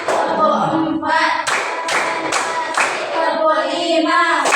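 A group claps hands together in counted unison, sharp bursts landing at a steady pace close by, with faint murmuring between claps.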